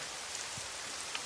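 Steady rain falls in an even, continuous hiss with faint scattered drops, with no voices.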